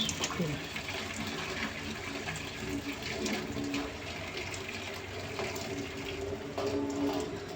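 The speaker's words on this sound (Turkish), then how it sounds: "Tekrar suya tutacağım karnabaharı" Boiled cauliflower rinsed under a running kitchen tap, a steady broadband wash of water that continues without break, with some faint background clatter.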